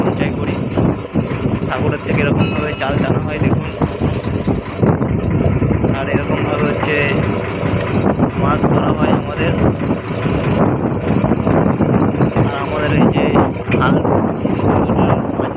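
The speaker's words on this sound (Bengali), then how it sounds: "মাঝিবাবু এরকমভাবে ফিশিং বোটটা চালাচ্ছে দেখতে পাচ্ছ" A fishing trawler engine runs with a steady low drone on the Bay of Bengal, loud and continuous, with wind and water noise around it and someone talking over it.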